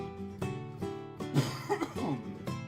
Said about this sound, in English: I have to clear my throat apparently.